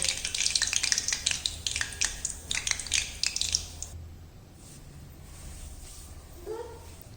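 A methi and sabudana snack frying in hot oil gives a busy, crackling sizzle with sharp pops for about four seconds, then settles into a softer, quieter bubbling.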